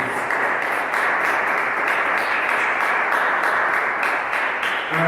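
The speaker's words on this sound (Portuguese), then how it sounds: "Vamos aplaudir e glorificar o nome do Senhor Jesus." A church congregation applauds during a sermon, sustained loud clapping with a brisk, rhythmic texture that stays even for several seconds.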